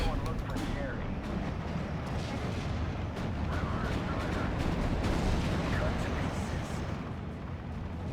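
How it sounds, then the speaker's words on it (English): Heavy artillery fire in a war video game, a dense continuous rumble of booms and blasts filling the background while someone talks over it. "Looks like here comes that artillery."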